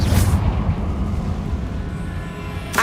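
A deep booming blast from the Confringo explosion spell in the Hogwarts Legacy video game, a loud low rumble that rolls on and slowly fades, with a short burst at the start and another at the end.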